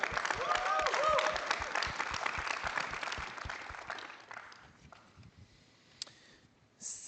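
Applause from a seated audience at a panel event, steady clapping that fills the room for several seconds before thinning out and fading into quieter room sound.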